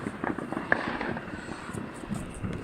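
New Year fireworks crackle and pop continuously in the distance, a dense rattle of firecracker-like bursts with a few brighter whistles toward the end and no clear speech.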